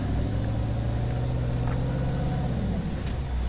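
An off-road rock crawling car in a bouldery area, its engine a steady loud low drone heard from inside the vehicle, with a few faint knocks and creaks near the end.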